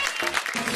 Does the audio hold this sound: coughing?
no